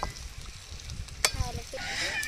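Cleaned river mussels stirred and frying in masala in a pan, a steady close sizzle with scraping stir sounds and a brief clatter partway through, and a bird honking faintly nearby.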